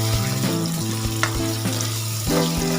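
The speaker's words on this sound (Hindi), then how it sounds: "अब हम टमाटर इसमें शामिल कर देंगे और साथ ही हम हरी मिर्च भी इसमें डाल देंगे।" Tomatoes and green chilies fry with potatoes in a pan for aloo baingan sabzi, a continuous sizzle under repeated stirring scrapes, with a low steady hum running beneath.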